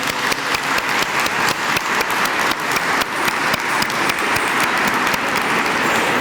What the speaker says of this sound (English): could we all give all the dancers a big round of applause